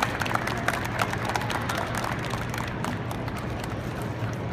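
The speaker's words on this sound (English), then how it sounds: "round of applause." A crowd at an RV show dog-training demonstration claps loudly and continuously, a dense close-up roar of hands with a faint low hum underneath and no talking.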